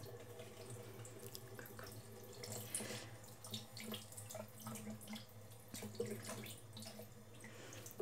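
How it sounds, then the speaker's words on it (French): Tap water runs onto a washcloth in a quiet indoor setting, a soft steady trickle with small splashes lasting throughout, close and gentle with no talking. "Je vais faire couler un tout petit peu d'eau."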